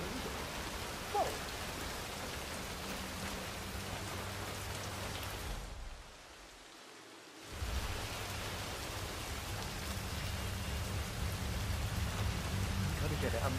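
Steady, fairly faint rainfall hisses throughout a rainy night street scene in the video game Hitman 3, set in Chongqing, China, dipping briefly to a muffled lull midway before the broadband patter resumes.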